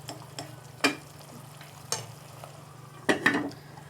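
Beef stew is lightly fried in a pan under a low steady sizzle, punctuated by a few sharp spoon clanks and scrapes against the metal as it is stirred.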